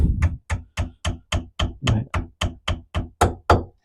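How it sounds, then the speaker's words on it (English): A copper hammer on a Range Rover P38 axle gently taps a diff, hub or CV part home, striking about fourteen even, sharp knocks at a steady beat, close and clear with no talk. "I'm going to use my Thor copper hammer and just gently,"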